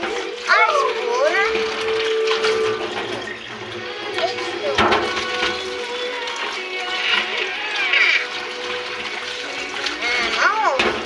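Dishes being washed under running tap water, with a steady stream and clinks of plates and a spoon, while someone talks and exclaims over the water throughout.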